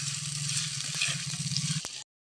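Sliced plantain with onion and tomato fries in a pan, cooked village style, giving a steady, close sizzle with a few faint stirring taps before it cuts off abruptly.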